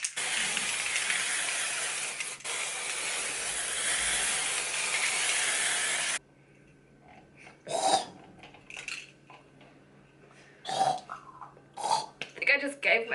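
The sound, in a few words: gold glitter spray mist released from a can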